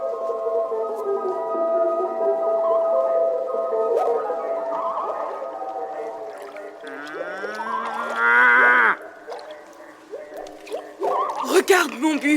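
A cow moos in long, low, drawn-out calls within an animated Jungle Book scene, set against sustained music and mixed with other voices and effects.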